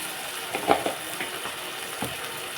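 Fish curry ingredients with turmeric fry in a pan, giving a steady close sizzle broken by a few stirring scrapes and clinks, with one louder knock early on and no voices.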